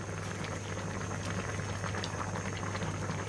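A pot of moringa drumstick curry with mustard boils uncovered, a steady close bubbling and popping simmer that runs evenly throughout with no talk.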